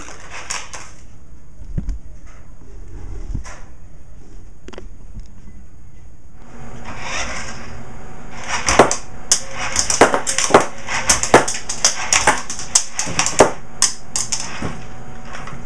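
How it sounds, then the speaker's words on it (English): A 2010 Star Wars remote-controlled Republic Fighter Tank toy fires its cannons, giving quiet clicks at first, then a fast run of sharp plastic snaps and clacks, close and irregular. "we're going to demonstrate how far the firing radius of this tank is"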